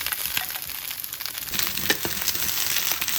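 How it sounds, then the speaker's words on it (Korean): Sliced eggplant hits an oil-coated stainless steel pan and sizzles in a bright, steady hiss with crackling pops, up close and alone without talk. "이제 기름 코팅까지 마친 스텐팬에 썰어둔 가지를 모두 넣어줍니다."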